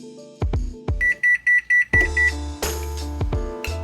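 A gas oven signals it has finished preheating with a row of five short, evenly spaced electronic beeps, heard close by amid kitchen clatter and a few sharp knocks of utensils.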